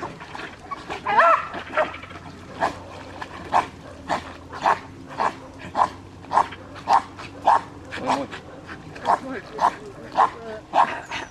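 A dog barks in a steady repeated rhythm, about a dozen sharp barks spaced evenly, fairly close, over outdoor background noise with people talking near a bathing spot.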